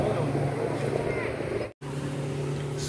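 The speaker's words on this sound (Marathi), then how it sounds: "सुंदर अशी स्पीड बोट." A speedboat on the backwaters of Kerala, a steady loud engine drone with water rush that continues through a brief dropout, with no clear talk over it.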